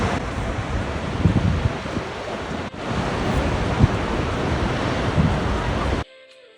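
A waterfall plunging into a Norwegian fjord, UNESCO-listed, gives a steady broadband roar of falling water with gusty wind buffeting, continuous and loud for about six seconds before cutting off abruptly.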